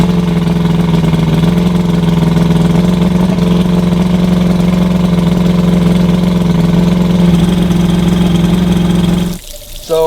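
An Evinrude 90 HP two-stroke outboard engine after carburetor, manifold and reed work runs at a steady, loud idle for about nine seconds with a constant low drone, then cuts out abruptly, leaving a brief rattling noise near the end.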